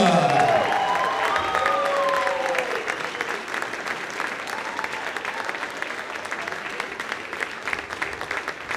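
Audience applause for the folk dance ensemble Uguntiņa at a dance concert, a dense steady clapping from a large crowd that swells loud at first and then settles to a slightly softer, sustained patter, with a voice briefly heard over it.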